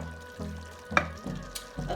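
Onions and shallots sizzling in a pan while making scalloped potatoes, a steady low frying hiss with a few sharper clinks and stirring bumps, close and moderately quiet.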